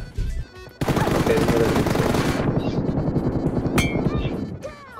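Dense automatic gunfire from a mobile shooting game, sustained bursts of rapid shots filling most of the clip, loud and continuous, then tapering into a few isolated clinks and shots at the end.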